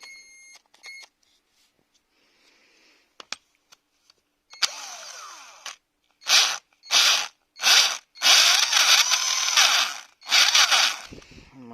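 Metabo PowerMaxx 12 cordless drill running in first speed: after a few faint clicks and beeps come several short whirring bursts, then longer close, loud runs, with no speech.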